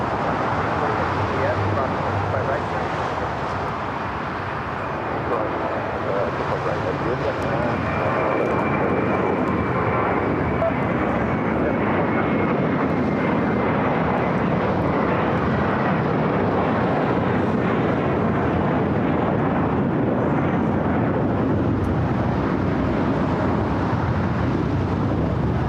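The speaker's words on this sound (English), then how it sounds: "The flight taking off was American Airlines Flight 274" American Airlines Flight 274 takes off at LAX, a loud, sustained jet roar that holds steady and broad for the whole stretch, with a voice talking faintly underneath.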